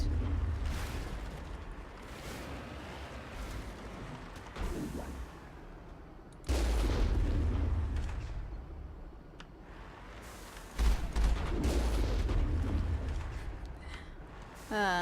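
Gunfire and explosions in the game Mass Effect, several loud deep blasts landing at intervals with rumbling decays, set under a moderate background of game noise and occasional talk.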